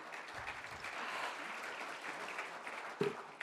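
Audience applause fills a town meeting hall, a steady sustained clapping from many hands at moderate volume with a brief louder clap near the end.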